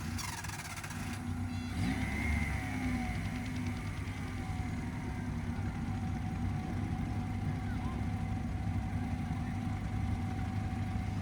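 A car engine runs steadily at low revs while reversing on a slight slope under clutch control, a close, even mechanical hum with a slight rise early on.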